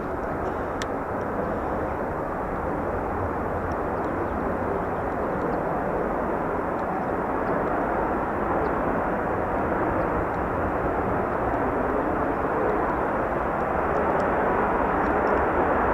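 An F-35B stealth fighter jet on a slow approach to land gives a steady, loud, broadband roar that holds for the whole stretch, heard from outdoors with no talk over it.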